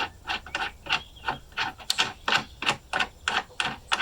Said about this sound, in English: I'm going to use a screw and a stack of washers to try to pull the wood nut up into place